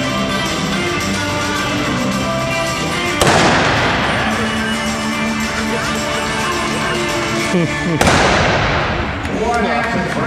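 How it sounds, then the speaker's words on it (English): Sharp gunshots fired during an Annie Oakley-style fancy shooting exhibition, two loud cracks several seconds apart, each followed by a ringing decay over steady background noise. "Let him shoot."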